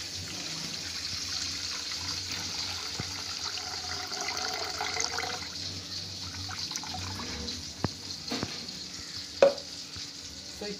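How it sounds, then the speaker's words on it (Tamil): Water poured and strained through a filter while making tomato soup, a continuous soft trickling and splashing close by, with a few sharp clinks of utensils near the end. "அதையும் வந்து நான் ஃபில்டர் பண்ணிக்கிறேன்."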